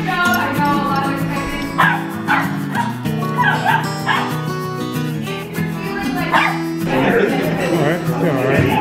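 Corgi puppies bark, yip and whimper in excited bursts, close and loud, while a person talks over them throughout.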